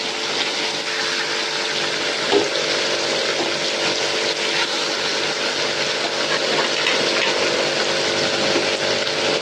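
Steady, loud sizzling of Bombil fish frying in a pan over a low gas flame, a continuous dense hiss with faint crackles and no speech.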